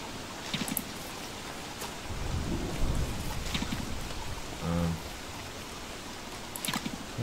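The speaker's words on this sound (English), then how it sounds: "No, rain's fine. Rain's good." Rain falling in the survival video game Don't Starve, a steady hiss of drops with faint low rumbles of thunder through the middle, ambient and unbroken with no talking.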